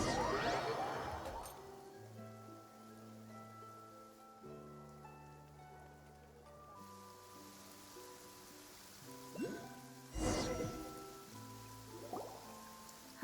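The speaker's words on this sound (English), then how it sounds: "It's been raining non-stop for a few days now." Steady rain falls throughout a video game scene, a soft continuous hiss with a few louder splashing or crashing bursts, heard alone under tonal game music with no talk.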